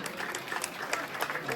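Audience applause for performers at a traditional Konkan tipri dance event in Kudgaon Koliwada, a brisk patter of many hands clapping at moderate distance, steady throughout a short burst.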